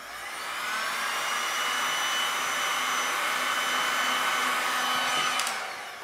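Hot air blowing over an epoxy resin opal-effect tile to bring up cells, a loud steady hair-dryer-like whoosh that swells in, holds evenly for several seconds, then fades.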